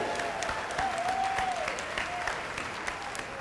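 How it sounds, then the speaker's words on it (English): Steady applause from a large audience at a business motivational event, saluting the company trip winners, a dense continuous clatter of many hands with a brief voice rising over it. "We applaud you."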